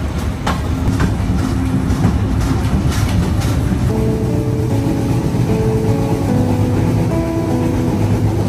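Passenger train running on rails during a morning journey toward Rajshahi station in Bangladesh, a steady loud rumble with rattling carriage noise and faint clatter continuing throughout.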